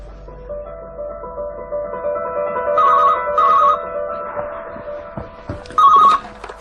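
A phone rings in repeated electronic trill bursts, each short double chirp standing out over a quiet room hum, recurring several times at a moderate distance.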